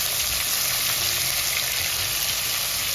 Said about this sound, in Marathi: दोन्ही टाकायचे, टोमॅटो आणि कांदा.